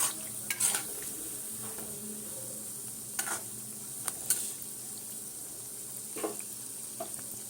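Semolina nimki fry in hot oil with a steady, close sizzle, broken by scattered scraping and clinking as a utensil stirs them in the pan.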